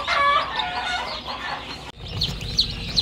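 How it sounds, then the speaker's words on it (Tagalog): Newly hatched chicks and chickens in a range area make high, busy peeping and clucking, close and fairly loud. A brief thump interrupts partway through, and then the clucking resumes. "So may tatlo tayong sisiw."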